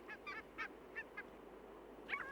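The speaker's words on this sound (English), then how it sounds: "Barnacle geese overwinter in Great Britain and breed on Svalbard." Several short honking barnacle goose calls on Svalbard, separated by pauses, then a final louder honk; moderately distant outdoor calls with no voices.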